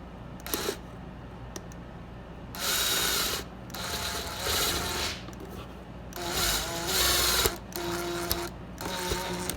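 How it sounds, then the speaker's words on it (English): Clamps on a Suzuki Ozark 250 carburetor are tightened with a ratcheting tool, several close bursts of rapid clicking separated by brief pauses, no talk. "you go ahead and tighten the clamps up."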